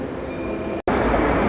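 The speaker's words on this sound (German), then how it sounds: "So, hier kommt auch noch ein schöner Zug, der hält genau da vorne." An RB10 regional train pulls into a modern Berlin station with a steady, loud rumble of wheels and motors, broken by a short gap before the rolling noise resumes.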